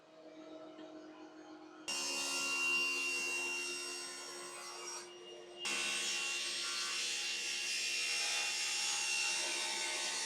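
A power planer runs over a wooden board from a 24-year-old workbench, starting with a low motor whine, then a loud, sustained cutting roar that briefly drops and resumes for a second long pass, close and without talk.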